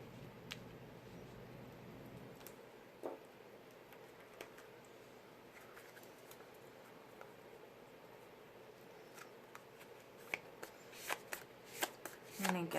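Oracle cards from an Island Wellness deck are shuffled by hand, a faint papery riffling with scattered soft taps and flicks that builds toward the end under quiet room noise.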